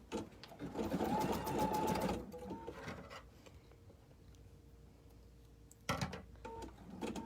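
A Husqvarna Viking embroidery machine with a hat hoop attachment stitches in a rapid, close mechanical chatter for about two seconds, goes quiet with faint clicks, then starts stitching again near the end.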